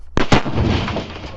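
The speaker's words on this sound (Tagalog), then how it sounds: "Subukan nga natin kung anong mangyayari kung hagisan natin ng granada." A grenade blast bursts out with a sharp, loud crack and a second boom right behind it, then a long broadband rumble that fades slowly, with no talking.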